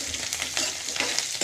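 Chillies fry in hot oil with a soft, continuous sizzle and light popping, close by and fairly quiet.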